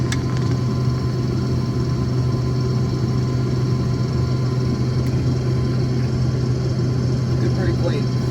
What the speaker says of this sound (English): With the other tractor in the background.